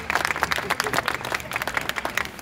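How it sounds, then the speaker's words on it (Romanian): An audience claps warmly after a folk arts school performance at a live holiday show, a dense burst of applause filling the whole moment, close and loud. "Și aplauze din nou pentru ei."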